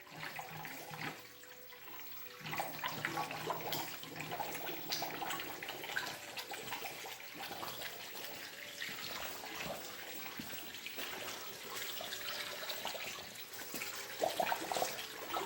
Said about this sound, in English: we're going to go ahead now and put some coolant in it